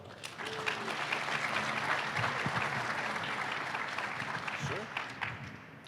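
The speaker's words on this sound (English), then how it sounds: "can we also give a nice round of applause for Ryan Humble, our Area Vice President" Audience applause at a business keynote event in Detroit, steady broadband clapping filling the room for the whole stretch, with a voice and some crowd murmur mixed in underneath.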